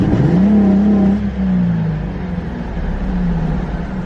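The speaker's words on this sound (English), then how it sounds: "Been letting it idle for a little bit, so it's got oil pumping through it." A twin-turbo Mustang drift-build engine runs steadily and close by with a low rumbling drone, its pitch rising slightly and then settling back as it idles.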